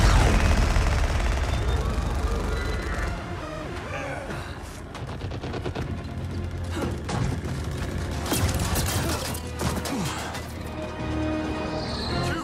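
Rapid bursts of automatic gunfire and clattering mechanical impacts in Mortal Kombat 11 story mode, loud and dense over a rumbling low backdrop with a few voices mixed in.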